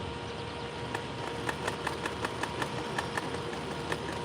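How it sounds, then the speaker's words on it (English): A sewing machine runs steadily while stitching denim, a continuous mechanical hum broken by regular light ticks of the needle, moderately close, with no talking. "Sounds like it's sewing now."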